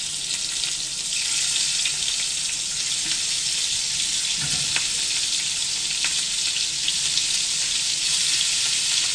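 About half a pound of shrimp frying in a hot pan for Spanish garlic shrimp, a loud, dense, continuous sizzle with a few light knocks and no talk.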